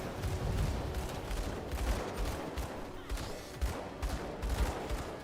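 Rapid bursts of gunfire crackle in a dense, continuous battle between gunners in the Grim Dawn video game, the volleys fairly quiet and layered with irregular sharp shots.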